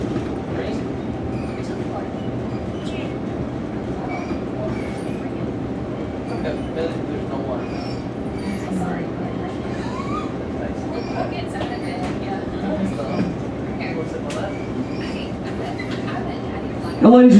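A TAG locomotive (#80) hauls a local train up a steep 1.5–2% grade on Missionary Ridge near Chattanooga, Tennessee, with a steady rumble of rail cars and engine throughout, and a sharp louder burst at the end.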